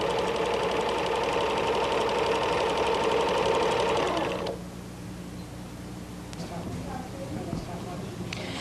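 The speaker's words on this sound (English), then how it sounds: "I'm now ready to sew a scalloped or scallop skirt using the pin stitch setting on my Elna 9000." An Elna 9000 sewing machine running a pin stitch with a 100 wing needle whirs in a steady, fast mechanical rhythm for about four seconds, then stops, leaving quieter room sound and a few faint clicks.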